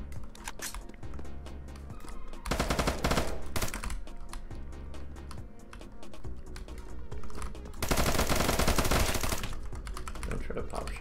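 Rapid automatic gunfire from the Roblox game Apocalypse Rising 2 bursts out in several loud sustained volleys, separated by quieter stretches with lighter clicking, all heard without speech.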